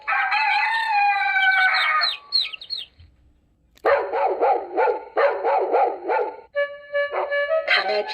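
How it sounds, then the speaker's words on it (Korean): Hen and chicks from an animal sound book: loud, close, high-pitched bursts of rhythmic clucking and cheeping with a short pause partway through, followed by further repeated calls. "엄마 닭과 병아리는 꼬꼬대"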